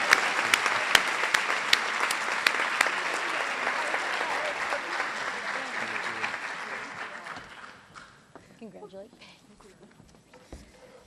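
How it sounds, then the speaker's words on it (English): Loud applause from a crowd at a school rally, steady clapping that gradually fades out, with a few voices heard as it dies down. "let's give a round of applause"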